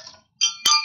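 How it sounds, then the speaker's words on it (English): A small bell is struck twice in quick succession, each ring bright and close with a short metallic ping, during a live stream celebrating a new SE625 machine. "We like ringing the bell for people."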